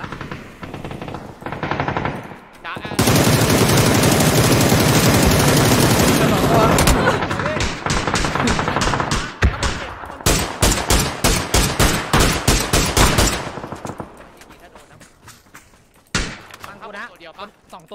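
Rapid automatic gunfire in a PUBG match, with long dense bursts followed by sharper individual shots and volleys, loud and close, while players talk over the shooting.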